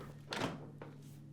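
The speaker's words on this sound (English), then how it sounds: "push it back into the dishwasher and close the door" A Whirlpool dishwasher door is pushed shut, giving a muffled thunk followed by a softer second knock a moment later, close by over a steady low hum.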